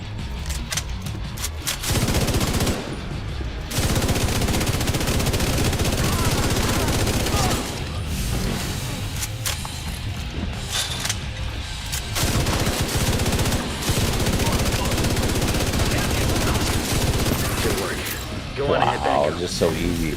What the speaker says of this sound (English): And that is the new Exotic LMG.